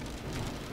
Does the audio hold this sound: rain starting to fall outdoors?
yes